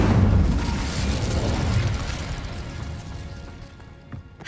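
An Incendio fire spell bursts in a Harry Potter game, a loud booming explosion up front that rumbles and crackles, then fades over a few seconds, with a small pop near the end.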